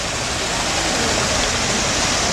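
Water splashes steadily into a fountain pool on the Pantheon square in Rome, a continuous broadband rush heard close and fairly loud, with no talk over it.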